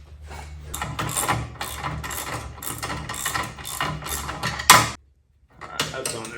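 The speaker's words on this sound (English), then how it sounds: "I'm gonna tighten it up with a 13 and a wrench." A 13 wrench ratchets a header pipe bolt tight on a Royal Enfield Himalayan during a Delkevic header install, giving a close run of rapid metallic clicks in bursts, a louder clank, a brief pause, then more ratcheting.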